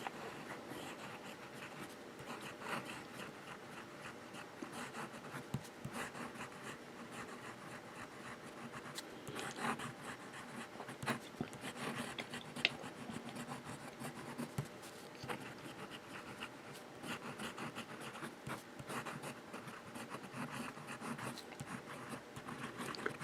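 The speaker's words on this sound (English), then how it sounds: "Let's do some writing." A Jinhao 189 fountain pen writes on paper with a soft continuous scratching and rubbing, faint and close, the strokes rising and falling in uneven rhythm for a long stretch without talk.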